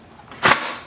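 The paper tray of a Canon imageClass LBP236dw laser printer slides shut with a single short, sharp plastic clack at close range, preceded by a faint scrape.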